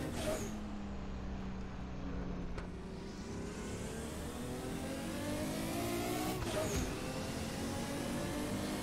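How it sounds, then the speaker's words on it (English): A DRM Revival race car in Assetto Corsa revs and accelerates, its engine rising and falling with two sharp turbo wastegate hisses and blow-offs as it shifts, loud and close. "After a while, that wastegate sounds a little weird."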